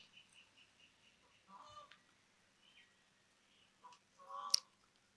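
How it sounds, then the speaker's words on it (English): Birds call outdoors in a quiet setting, faint scattered chirps and a few louder honking, fowl-like calls near the end, with no voices. "listen to the sounds of the birds."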